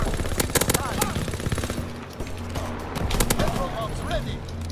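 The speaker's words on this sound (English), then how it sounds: "I love the machine pistol." Machine pistol gunfire in Call of Duty WW2 multiplayer team deathmatch, with rapid loud bursts and scattered shots mixed with game effects. Voices talk over the shooting.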